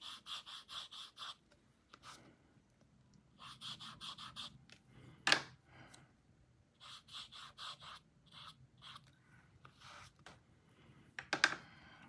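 Soft bristly scratching strokes of a Rosemary and Co eradicator brush barely touching watercolor paper in short rhythmic bursts, close and fairly quiet, with a couple of sharper taps between them.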